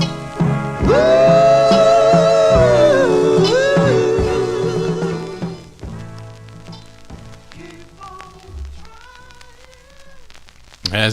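A 1965 soul record plays, with lead and harmony vocals over a band, loud at first and thinning toward the end.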